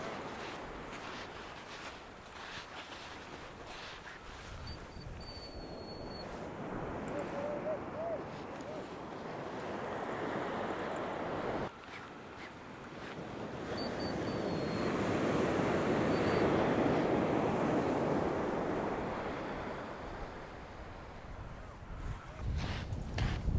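Waves breaking and surging on Chesil Beach, a steady loud roar of surf with wind buffeting the microphone, building in the second half.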